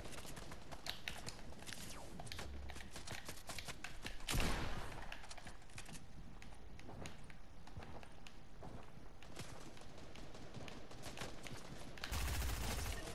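Fortnite battle royale gunfire rattles in rapid bursts, with a heavier volley midway and another at the end, mixed with scurrying footsteps throughout.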